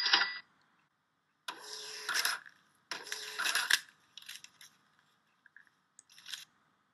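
A network receipt printer prints a receipt in two loud mechanical bursts of about a second each, then gives several shorter, fainter whirs and clicks, with no talking.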